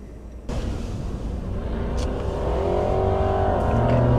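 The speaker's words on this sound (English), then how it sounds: "So we're just passing the racetrack here, if you can hear that." Race cars at a racetrack on Prince Edward Island, heard from inside a passing car: a rising engine whine over steady road rumble, growing gradually louder.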